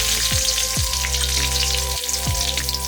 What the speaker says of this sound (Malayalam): കടുക് പൊട്ടിക്കഴിയുമ്പോൾ അല്പം കറിവേപ്പില ഇട്ട് കൊടുക്കുക.